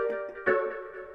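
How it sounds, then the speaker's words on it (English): Short, plucked synth chords with quick attacks, a couple of stabs ringing briefly and softly before fading. "I went and got these plucky chords from Pigments"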